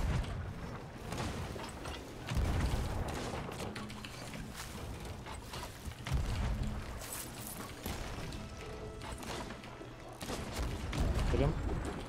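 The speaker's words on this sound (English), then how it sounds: "Just dodging a bunch of snipes." Sniper rifle shots ring out in the pirate game Sea of Thieves during a ship battle, several loud reports at irregular intervals over rumbling game noise and water.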